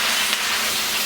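Steam hisses and sizzles steadily from a wok of Cantonese pork and potatoes, a dense, even, close hiss that lasts about a second with no voices.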